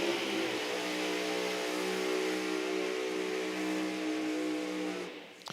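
A loud nitro race car engine at the Nitro Champs drag racing event revs steadily at high pitch for several seconds, then cuts off abruptly near the end.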